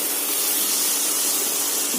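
Prawns frying in a pan with onion, garlic, ginger and tomato for a Bengali chickpea-greens dish, giving a steady, loud, close hiss and sizzle that fills the short stretch without talking.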